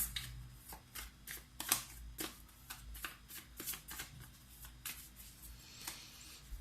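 Tarot cards are shuffled by hand and one card is drawn, making a string of crisp, close flicks and riffles in an uneven rhythm, with no talking.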